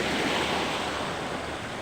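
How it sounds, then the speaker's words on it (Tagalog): Strong sea waves surge onto the shore of a clear tropical beach as the afternoon tide rises. The surf roars continuously and close, with a windy wash, and no voices are heard. "malakas na yung alon"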